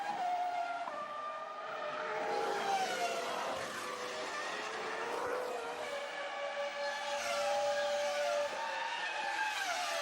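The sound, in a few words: Formula 1 cars racing, Alonso's Renault and Schumacher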